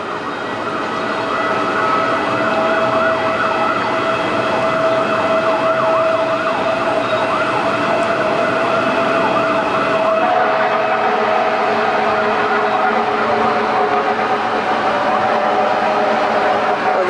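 A fire truck siren wails continuously at a big blaze in Manila, its rising and falling tone loud and close over the steady rumble of road traffic throughout, with no talking.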